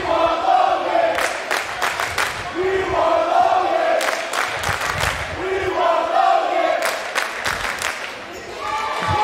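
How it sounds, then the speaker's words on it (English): Crowd at an NAIA men's college basketball game between Texas Wesleyan and SAGU chanting for a player, rhythmic shouted calls with sharp claps or stomps in repeated bursts, loud and close in an arena. "Sounds like the crowd's calling for Logan Edwards"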